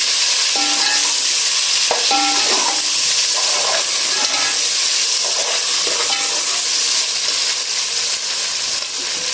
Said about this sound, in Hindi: अब यहीं पे मैं टमाटर डाल दूँगी और इसको अच्छे से भून दूँगी।